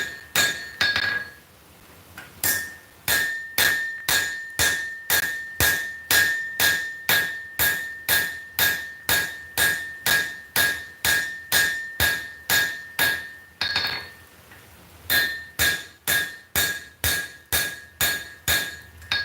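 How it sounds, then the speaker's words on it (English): Steady hammer blows cold forging a copper knife piece, about two strikes per second, each a bright ringing metallic clang, with a short pause near the start and another about two-thirds of the way through. "This is that process of cold forging, and that is going to strengthen this piece of copper."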